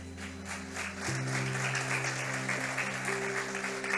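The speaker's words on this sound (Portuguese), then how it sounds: "Aplauda ao Senhor" A church congregation at a family worship service claps steadily in dense, even applause, with sustained organ-like keyboard tones underneath throughout.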